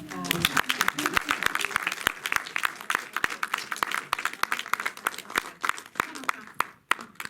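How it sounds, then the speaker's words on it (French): Audience applause at a public talk event, a dense run of sharp hand claps that fades briefly near the end before picking up again, with some voices mixed in at the start. "je vous demande de l'applaudir"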